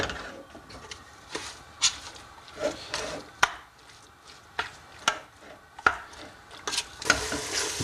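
Meat, garlic and spices sear in a pot over a fire for couscous with lamb, with a steady low sizzle and repeated scraping stirs, close and moderately quiet, no talking.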